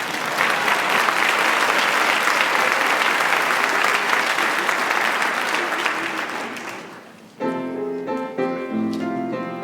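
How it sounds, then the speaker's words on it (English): A crowd at a live school stage show of School House Rock applauds in a full, sustained round for about seven seconds, dying away just before music starts up. "I think we should clap for dads for memorizing."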